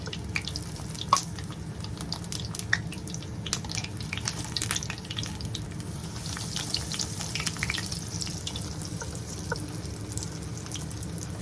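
Bread pockets stuffed with chicken filling deep frying in hot oil, a steady bubbling sizzle with scattered crackles running unbroken and fairly close throughout, with no talking.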